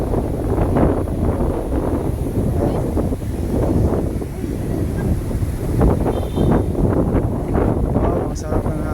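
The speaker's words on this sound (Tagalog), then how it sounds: "Ang lakas ng hangin." Strong wind buffeting the microphone at night near the Ma-a flyover, a loud continuous low rumble with gusty surges throughout, and speech mixed in over it.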